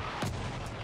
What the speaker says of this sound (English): Oh, that's artillery.